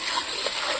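Tomatoes hit a pan of frying ginger and garlic during a Bengali chicken kosha cook, a brief hissing splash of sizzle heard up close with no voices.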